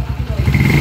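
Motorcycle engine revving after a connecting rod pin repair: a brief, loud, close burst of throbbing, pulsing engine sound.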